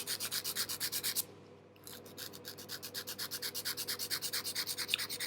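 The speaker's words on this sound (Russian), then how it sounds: "Опиливаем форму миндаль." Rhythmic rasping strokes of an 80/80 grit file shaping an acrylic gel nail into an almond form, steady back-and-forth scrapes with a brief pause partway, close and fairly quiet.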